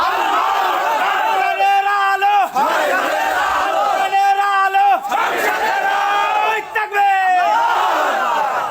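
A large crowd at an outdoor Islamic religious gathering roars its reply to a takbir call in repeated loud, unified shouted chants, each swelling and breaking off before the next.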